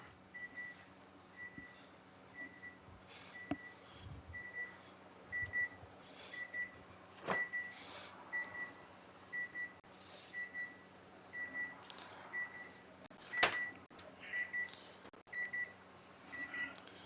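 A timer beeps in a steady series of short, evenly spaced electronic tones over a quiet room with a low background hum, with a few soft knocks mixed in.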